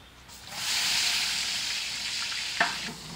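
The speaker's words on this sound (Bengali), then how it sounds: "সসমান গরম হয়ে গেছে, তেলটা দিয়ে দিলাম" Oil poured into a hot pan for cooking vegetables bursts into a loud, continuous sizzle that holds steady, with a small sharp pop near the end.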